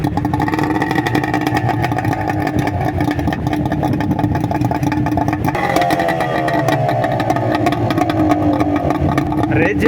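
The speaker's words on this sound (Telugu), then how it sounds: "సో ఇంజన్ స్టార్ట్ చేసిండు." Fishing boat engine on a beach at Shangumugam, Trivandrum, Kerala, running loud and steady throughout with a rising rev partway through, close by with people talking over it.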